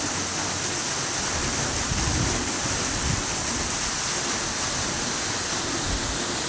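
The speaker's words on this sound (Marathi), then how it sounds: "विहिरीत पाणी चालू केलं आपण सोडायला आता" Steady, loud rush of water pouring continuously into a well, a broad hissing roar with low splashy churning underneath, no voices.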